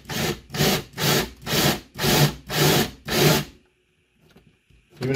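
A small 3/16 drill bit bores out a hole in a potato cannon air valve part, giving six rhythmic grinding bursts of even length, close and fairly loud, followed by a near-quiet stretch with faint handling noises.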